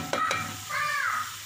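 Keema minced meat being stirred in a pan over low heat, with green chillies and whole spices; a couple of sharp scrapes of the spoon, then a steady sizzle running underneath, close and moderately loud.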